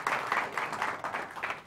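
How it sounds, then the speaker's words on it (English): Audience applause at a monthly business meeting, a steady patter of clapping from a modest crowd lasting under two seconds without a clear start or finish. "Give them a big round of applause."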